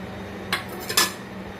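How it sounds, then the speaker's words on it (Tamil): Chopped chow chow, onion and tomato are tipped into a pot of cooked dal, giving two brief metallic clinks of a spoon against the pot over a low, quiet background. "இதில் நம்ம காய், வெங்காயம், தக்காளி எல்லாமே இதில் போட்டுக்கலாம்"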